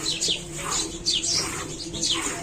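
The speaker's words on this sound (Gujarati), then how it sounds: "મસ્ત ચકલા બોલી રહ્યા છે" Sparrows chirp nearby in quick bursts of bright, repeated tweets, several calls overlapping against a soft background.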